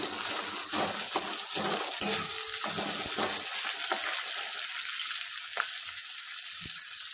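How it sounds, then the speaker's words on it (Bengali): Onion with a bay leaf frying in a pan, a soft, fairly faint sizzle with scattered crackles and a few clinks, busier at first and thinning out toward the end; no voices. "পেঁয়াজটা ভাজা হচ্ছে।"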